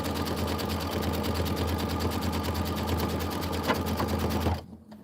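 A sewing machine stitches quilting fabric for a winter block in a fast, even rhythm that runs steadily and then stops abruptly near the end.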